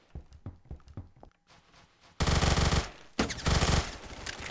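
Kriss Vector gunfire in the Roblox shooter Phantom Forces starts as a few separate shots and thuds, then breaks into loud, dense bursts of rapid automatic fire with a short pause between them.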